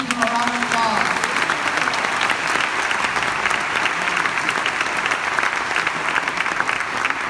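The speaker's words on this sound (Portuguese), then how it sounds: "Let's give a round of applause." A crowd gives a round of applause at a celebration honoring the flag of Brazil, sustained steady clapping lasting several seconds, fairly loud and close.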